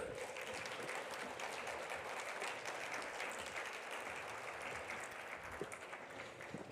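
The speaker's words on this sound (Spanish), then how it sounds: "Les damos otro fuerte aplauso" Audience applause at a general assembly: steady, dense clapping from a large crowd, heard at a distance and fairly faint, holding evenly throughout.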